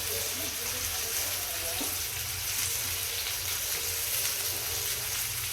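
Chopped vegetables with tomato and chillies frying in a pan with turmeric: a continuous, even hiss and sizzle that carries on unchanged from start to end, with a low rumble underneath.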